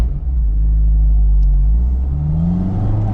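A manual transmission car pulls away in second gear, its engine giving a steady low drone that rises gently in pitch as it accelerates, loud and close, from inside the cabin.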